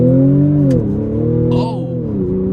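Modified supercharged Audi S4 launching under launch control in sport mode with traction control off, its engine droning loud and steady as revs climb, with a brief bump in pitch midway, heard from inside the cabin.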